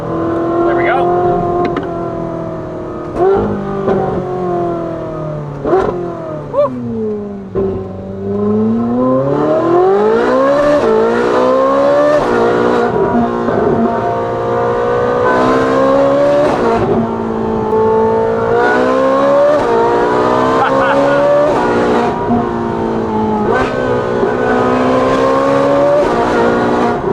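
A bone-stock Ferrari 458 with a full titanium exhaust and free-flow front pipes revs hard with the top up, heard close from inside, its pitch swooping up and down through repeated blips and sustained high revs with crackling overrun.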